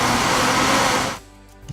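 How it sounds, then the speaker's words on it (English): A Hamilton Beach Eclipse commercial blender's loud, steady whirring motor roars for about a second, then cuts off abruptly, leaving a faint hum. "The average commercial blender"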